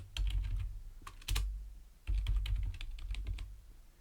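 Computer keyboard typing up close, with bursts of quick key clicks separated by short pauses and a low hum underneath, no voice present.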